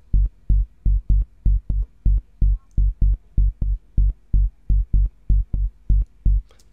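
Syncopated sub bass layer from a melodic techno track: deep, loud thumps in a steady repeating pattern with short gaps between them, heard alone with no voices.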